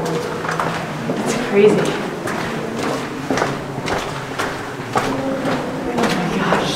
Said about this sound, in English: The reverberation is what we heard when she closed the door through this 530-foot long tunnel that they blasted out of the rock to make an exit.